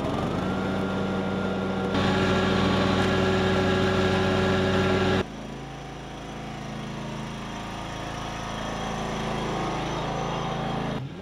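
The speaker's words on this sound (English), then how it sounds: "before we start up old John Deere," An old John Deere lawn tractor engine runs steadily and loud, first a higher-pitched revving stretch, then dropping abruptly to a lower, rougher idle that continues to the end with no talking.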